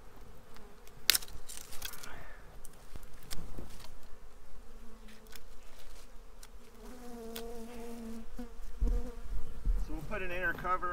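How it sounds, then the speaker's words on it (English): Honey bees buzzing around a hive box during a trap-out from a tree outdoors, a steady insect hum with scattered close fly-bys and occasional light clinks of equipment. "Bees are moving in already."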